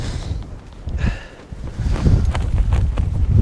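Wind gusting across a winter campsite where a tent is being pitched, a steady broadband rush with low rumbling buffets against the microphone, rising and strengthening in the second half.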